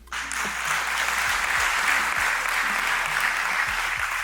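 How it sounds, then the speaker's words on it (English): Applause at a Merck Foundation conference inauguration swells suddenly and holds as a steady, dense clapping from a sizable audience, with faint music tones underneath. "Another round of applause."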